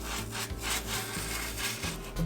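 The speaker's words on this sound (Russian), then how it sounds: "Замораживаем. И пробуем закрутить роллы." A metal spatula scrapes frozen Oreo ice cream across a cold tray to roll it up, giving a continuous rough, grating scrape with rhythmic strokes, close and fairly loud, with no voices.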